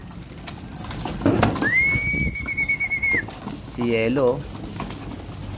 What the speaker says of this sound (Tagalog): Ang gandang ibon ito.